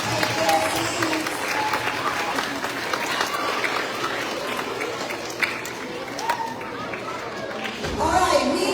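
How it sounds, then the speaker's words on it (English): Crowd applause fills a school assembly as the first grade class walks to their seats, with clapping mixed with chatter, shuffling feet and children's voices throughout, swelling again near the end. "Let's give first grade another round of applause as they take their seats."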